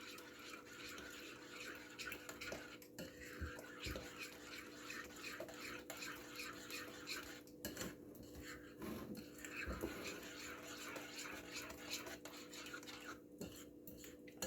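Lemon ricotta muffin batter with eggs being mixed in a bowl, soft irregular scraping and clinking of a utensil against the bowl, quiet and close, with a low steady hum underneath and no talking.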